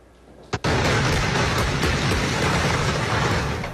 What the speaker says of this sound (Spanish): El sonido de la explosión causó conmoción la madrugada de este lunes